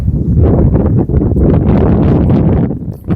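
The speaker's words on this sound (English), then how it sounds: "It's very windy here." Loud, continuous wind buffeting the microphone in Bruges Old Town, Belgium, a low rumbling roar that fills the whole stretch with gusty fluctuations.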